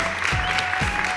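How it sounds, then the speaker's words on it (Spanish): Continuous applause fills a TV studio, a steady crowd clatter at moderate level with a faint tonal hum underneath and no pauses. "Un aplauso para ustedes."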